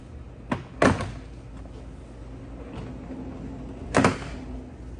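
A few sharp plastic pops and snaps as door panel clips are pried off a Hummer H3, spaced out, one fairly loud burst near the start and another later, over quiet background hiss.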